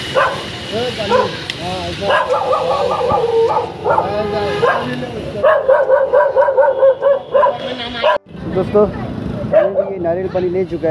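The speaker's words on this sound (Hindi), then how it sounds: "वहाँ पे कुत्ता बहुत भौंक रहा है, डिस्टर्ब कर रहा है कुत्ता।" A dog barks repeatedly nearby at an outdoor roadside stall, sharp yips and bow-wows coming in bursts while someone talks over them.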